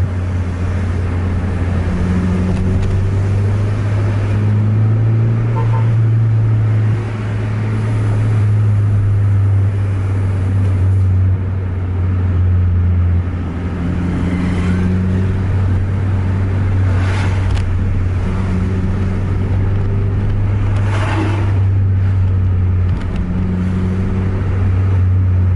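A Volvo Aerobus bus engine drones steadily and loudly from inside the moving vehicle, a low, constant hum with slight rises in pitch as it pushes forward, with no voices.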